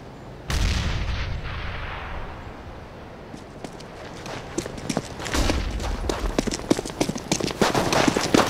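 A loud booming blast opens the moment in CS:GO competitive play, then its rumble fades into a dense rattle of footsteps and sharp gunfire that builds toward the end.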